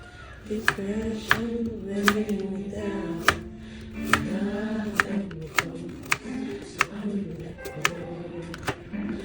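Carrots are cut up with a knife on a board, about a dozen sharp chopping knocks at uneven intervals, close and clear, while a person talks throughout.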